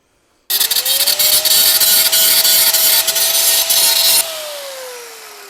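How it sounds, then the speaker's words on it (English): An angle grinder smooths the edges of a brake part on a Saab 96 two-stroke, spinning up with a loud rasping grind for several seconds, then winding down with a fading whine. "I will take the angle grinder and just give it sort of a luff so we don't have all these edges"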